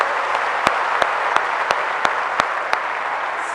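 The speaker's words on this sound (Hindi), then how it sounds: "जोर से ताली बजाइए, सब लोग बजाएं" Audience applause, loud and sustained, a dense wash of many hands clapping with a few sharper claps standing out at regular intervals throughout.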